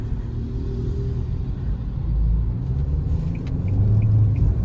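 Fiat Cronos Precision 1.3 with CVT gearbox accelerating in city traffic, a low engine drone that swells gradually, heard from inside the cabin with a few faint clicks near the end.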